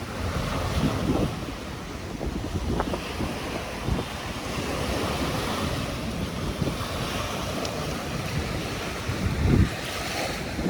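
Strong waves break on the gray-sand shore of Manila Bay amid gusty wind, a continuous roaring surf with rumbling buffets of wind against the microphone and occasional heavier crashes, with no one speaking.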